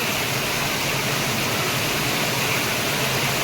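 Heavy monsoon rain pours in Surat, a dense, continuous roar of falling water and runoff that stays level throughout, with no speech.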